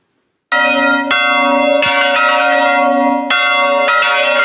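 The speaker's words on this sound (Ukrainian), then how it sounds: "Дзвони храму у селі Банюнен сьогодні голосять тривожним відгумоном" Church bells of a village temple toll loudly for a funeral, with several sharp strikes ringing out and long, rich tones hanging between them, close and alone with no voices.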